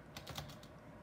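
Short burst of typing on a rusty computer keyboard with food crumbs under it, a few quick soft keystrokes close by, quiet and without speech.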